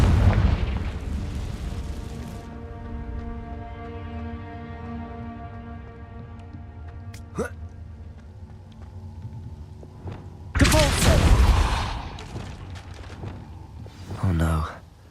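Spell blasts such as Confringo in the Hogwarts Legacy game burst out as heavy booming explosions, with a deep rumble at the start and two loud, sharp detonations near the end over a humming background, while a voice speaks between them.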